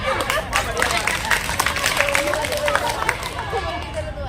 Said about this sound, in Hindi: हाँ अब और ताली मारो।